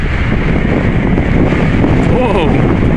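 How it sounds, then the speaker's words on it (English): Wind buffeting the microphone while riding a 2016 Zero DSR electric motorcycle, a loud, continuous rushing roar that fills the whole stretch with no clear motor sound. "This, all I can hear is the wind. A little bit of wind."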